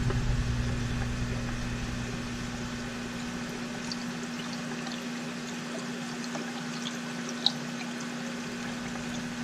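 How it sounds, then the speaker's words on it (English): Water stirred and dosed with a syringe into a rotifer culture for clownfish breeding, a soft continuous liquid wash with faint drips and small splashes over a steady low pump-like hum. "grab inside the syringe some of the water already, stir, stir, stir, start slowly dosing"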